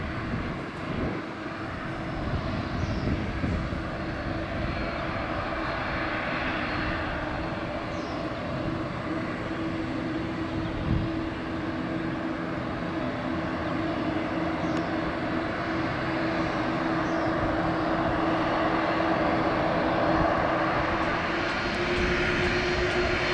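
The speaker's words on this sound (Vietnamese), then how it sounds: "Và đây là chiếc ATR-72 duy nhất còn trong màu sơn của Vietnam Airlines cũng đang tiến ra đường băng cất cánh." A Vietnam Airlines ATR-72 turboprop taxis toward the runway at Noi Bai airport, its steady engine drone holding at moderate loudness throughout with a slight swell near the end, and no talking.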